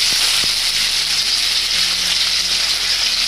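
Onions frying in hot oil in a heated pan for chicken pasta, a loud, steady, dense sizzle filling the whole stretch, close up, with a couple of faint low knocks early on and no talking.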